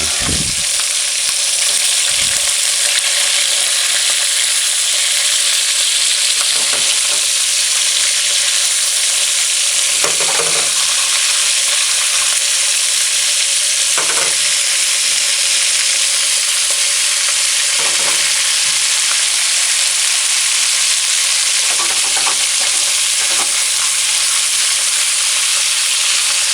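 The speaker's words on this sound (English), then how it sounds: "Just allow that to fry on one side for about 2 to 3 minutes." Food fries steadily in a pan with a loud, continuous sizzle throughout, broken by occasional soft clinks and stirring scrapes.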